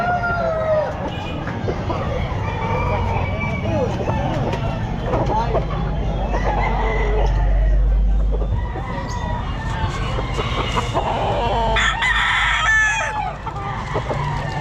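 Roosters crow repeatedly amid clucking fowl at a busy pet market in Calumpit, loud and close with overlapping calls, while someone talks over them throughout.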